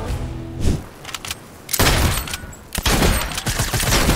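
Rapid hip-fire shots from an exotic sniper rifle in a video game crack out in sharp bursts, a short early volley, then heavier booming shots about midway and again toward the end, loud and close.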